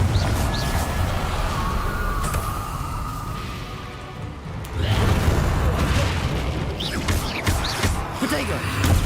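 Explosive spell blasts booming through a chaotic Hogwarts Legacy battle on PS5, dense rumbling impacts layered with other magical effects and a voice calling out spells over the din.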